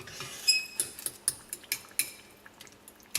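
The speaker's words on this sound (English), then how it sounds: "Now I'm going to take a fork and start chopping these up a little bit." A fork chopping and mashing cooked food in a dish for homemade pizza, giving a string of light, sharp metallic clinks and taps against the dish at irregular intervals, close and fairly quiet, with no talking.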